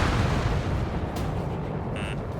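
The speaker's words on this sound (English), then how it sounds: "An explosion inside!" A deep explosion rumbles in the Ace Combat 7 video game, a heavy low roar that slowly fades, with a brief crackle partway through and a short high electronic beep near the end.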